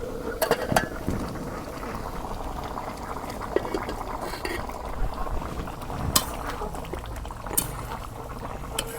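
Water poured into a pot of browned broiler chicken curry, a continuous wet pouring and bubbling wash with a few sharp clinks, under faint talk.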